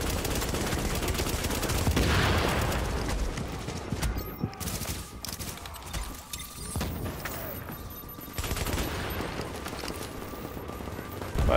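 Covering gunfire in The Division, a continuous volley of rapid automatic shots layered and sustained, moderately loud, with a voice briefly talking underneath.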